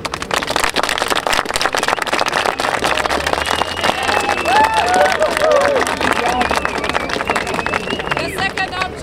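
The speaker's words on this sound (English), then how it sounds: "So please clap for which option?" Crowd of demonstrators kettled by police clapping to vote on an option, a continuous patter of many hands mixed with crowd babble and scattered shouts, fairly close and sustained throughout.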